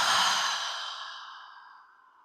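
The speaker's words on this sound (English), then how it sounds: "exhaling softly through the mouth." A soft mouth exhale, a single breath that starts fairly strong and fades gradually over about two seconds, close and clear with no talking.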